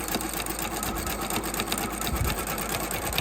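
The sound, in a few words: sewing machine stitching fabric edges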